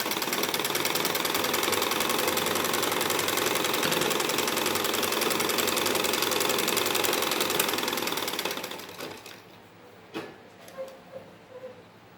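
A sewing machine stitches a buckram strip with a fast, even, rattling mechanical hum up close, then winds down and stops, followed by a few light clicks and handling sounds.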